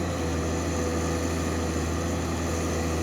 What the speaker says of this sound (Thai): เสียงเครื่องยนต์ก็หึมดีมากครับ